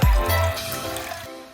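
Water pours into a cooking pot in a home kitchen for fish soup with moringa leaves, a short loud splash and trickle lasting about a second before fading.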